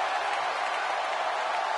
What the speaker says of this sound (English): This is an electric crowd here tonight, and we're hearing from them.